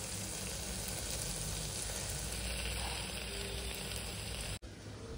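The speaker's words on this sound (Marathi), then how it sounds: "थोडं लाल होऊ देत कांदा आणि टमाटर" Onion and tomato fry in a pan for a diet khichdi, giving a dense continuous sizzle and hiss up close that breaks off abruptly near the end.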